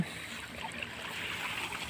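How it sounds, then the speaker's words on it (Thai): Water flows and trickles steadily past a fish trap set in a rice field, a close, continuous gurgling wash with no talking. "ตรงน้ำไหลนะครับ อยู่ที่นาของผมเองนะครับ"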